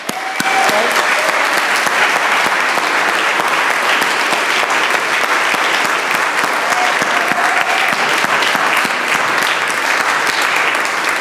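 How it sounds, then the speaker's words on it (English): A concert audience applauds the performers, a dense sustained wall of clapping close and loud throughout, with a few faint tonal voices or whistles mixed in. "A huge round of applause and second thanks for all the performers tonight."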